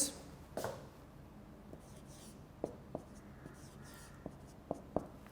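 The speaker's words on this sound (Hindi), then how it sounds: "मैं इधर लिख देता हूँ" A teacher's marker or chalk taps and scratches on a board during an English lecture, as short, faint, scattered strokes over quiet room noise.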